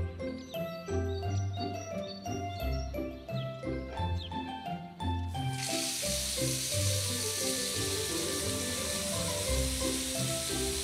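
A cartoon watering can pours water to fill an empty pool: after about five seconds of bright music, a steady, loud rushing pour begins and continues to the end, with the music still playing underneath.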